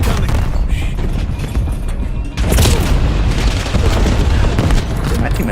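A grenade blast in the shooter Black Ops 7 lands amid a dense, loud battle din of rumbling booms and gunfire, with a heavy burst partway through and a radio-style voice over it.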